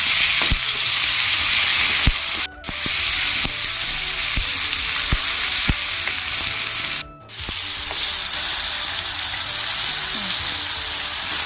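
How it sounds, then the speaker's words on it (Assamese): Tomato, onion, ginger, garlic and two green chillies frying together in a pan, a loud, steady close sizzle broken by regular scrapes and taps of a stirring spoon and two brief pauses. "গোটেইখিনি একেলগে মই এতিয়া ভালকৈ মিক্স কৰি ভাজি ল'ম।"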